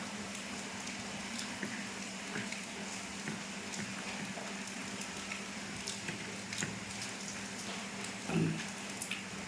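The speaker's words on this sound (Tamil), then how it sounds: "மதுரையில் கனமழை" Heavy rain in Madurai patters steadily and densely on surfaces close by, a continuous wash of drops with occasional louder splashes and no talking over it.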